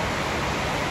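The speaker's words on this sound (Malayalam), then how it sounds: "ഷൂട്ട് കഴിഞ്ഞോടെ എന്തൊരു മഴ" Heavy rain pours down in a steady, unbroken hiss that fills the whole second at a constant loud level, with no voices over it.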